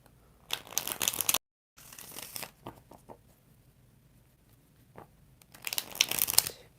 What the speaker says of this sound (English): We're going to do 5 shuffles.